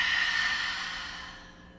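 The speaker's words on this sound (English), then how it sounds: "Open the mouth, breathe out." A long, steady breath pushed out through an open mouth during a yoga stretch, close and airy, fading gradually over nearly two seconds.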